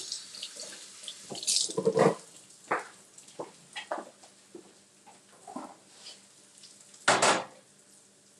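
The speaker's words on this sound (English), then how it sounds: "So I'm just going to wash this apple and cut it up." An apple is rinsed under a running kitchen faucet, the water splashing and gurgling in uneven bursts with a loud gush near the end, mixed with light clinks of dishes and utensils in a sink.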